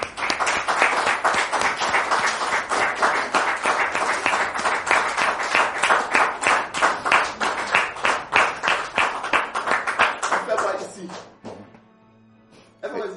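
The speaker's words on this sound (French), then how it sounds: "Public, merci de recevoir notre frère Maxime sous vos applaudissements" An audience claps at a French-language talk show, dense rhythmic applause for about ten seconds that fades out abruptly, followed by near silence.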